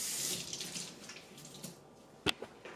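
Tap water runs briefly onto a paper towel held under a kitchen faucet, a soft steady wash that fades, followed by a sharp knock and a couple of faint drips.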